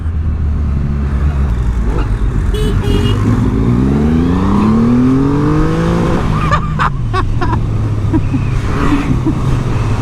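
A 2020 Triumph Rocket 3 with its 2500cc engine revs hard and loud and close, the deep roar rising steeply through a long climbing sweep. Then it drops back to a heavy, rumbling idle.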